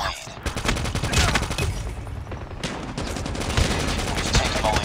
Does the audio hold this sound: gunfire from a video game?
yes